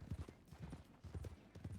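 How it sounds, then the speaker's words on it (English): Horse hooves clip-clopping at a steady riding pace in a video game, rhythmic soft thuds heard quietly and alone. "I actually quite like riding a horse across all these open spaces."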